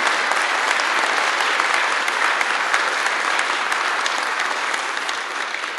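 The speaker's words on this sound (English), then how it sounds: "Let's give them a round of applause" Dense, sustained audience applause at a poet laureate installation ceremony in North Carolina, loud and even throughout and easing slightly at the end.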